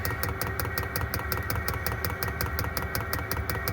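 Inside a van, a pump ticks in a fast, even rhythm while muffled with rags, the steady mechanical clicking repeating close by over a low running hum, with no voices.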